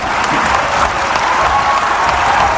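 An audience applauding a speaker, a dense, even wash of clapping from many hands filling the room, steady and fairly loud throughout without voices.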